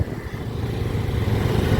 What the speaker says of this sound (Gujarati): આજે જબરજસ્ત ટ્રાફિક છે